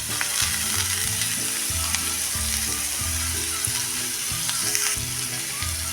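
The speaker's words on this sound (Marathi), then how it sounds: "आणि हा चांगला आपण परतून घ्यायचा आहे।" Grated radish with curry leaves and green chilli sautés in a pan, giving a dense, continuous sizzle with light stirring. Background music plays underneath throughout.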